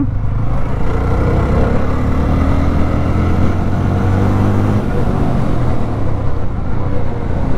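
A Jawa 42 motorcycle ridden along a road, its engine droning steadily and loud with low rumble and wind noise throughout, no talk.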